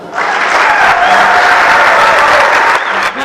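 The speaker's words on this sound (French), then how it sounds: "Merci aussi pour vos applaudissements." An audience at a show by a cultural troupe breaks into loud, dense applause that holds steady for about two and a half seconds, then fades.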